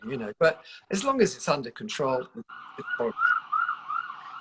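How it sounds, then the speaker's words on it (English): An emergency vehicle siren on a New York City street wails steadily in the background, rising and falling under a voice and continuing on its own after he stops talking. "Sorry about the sirens, by the way."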